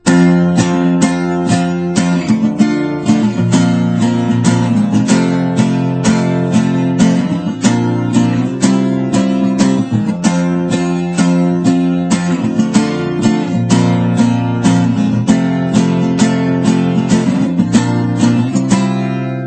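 Strummed guitar chords ring with a bright, jangly shimmer from open top strings, played in a steady rhythmic pattern throughout.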